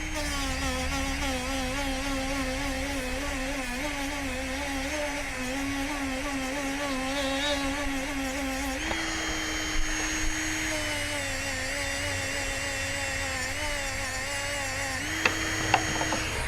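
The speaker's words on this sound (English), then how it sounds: "Let's take another sanding disc here that's a little finer grit" A power sander with a finer-grit sanding disc works over wood, a steady close whine with harmonic tones that shift pitch around the middle and near the end as the load changes, running continuously without speech.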